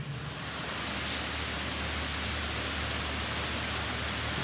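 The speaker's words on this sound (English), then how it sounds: "Just got another rainstorm come through." A rainstorm passing over an RV brings steady, dense rainfall as a continuous close hiss of drops hitting surfaces, with no voices.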